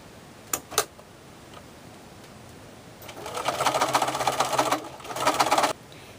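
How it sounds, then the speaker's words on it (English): Sewing machine stitching a rolled quarter-inch hem on a fleece arm warmer, close by, two brief clicks followed by two steady whirring runs of stitching with a short pause between, no talking. "roll the end up about, what, 1/4 of an inch, and we're going to sew that in place."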